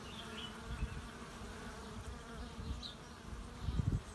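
Honeybees buzz continuously at a low level while working flowers, a steady droning hum with a few closer fly-bys swelling louder near the end and no voices.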